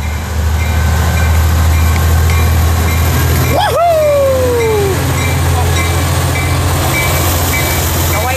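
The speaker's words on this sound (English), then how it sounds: "here's 854 about to depart out of Fullerton" Metrolink train 854 departing Fullerton station, a loud, steady, close diesel rumble throughout, with a short rising and falling horn-like squeal partway through.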